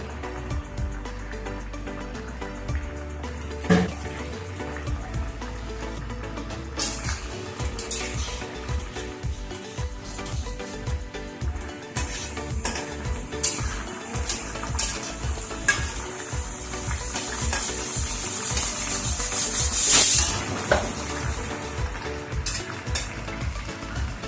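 Hilsa fish curry with eggplant and a green chilli paste sizzles and bubbles in a pan while a spoon stirs, producing a continuous close frying hiss with scraping clinks that swells louder near the end.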